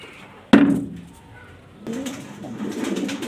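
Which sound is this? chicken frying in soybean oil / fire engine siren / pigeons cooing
pigeons cooing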